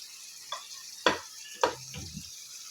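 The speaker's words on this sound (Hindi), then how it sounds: "गोश्त को अच्छी तरह से भूनेंगे।" Meat is fried with spice masala in a pan, giving a soft sizzle behind three or four sharp scraping stirs of a spoon, with some faint clatter near the end.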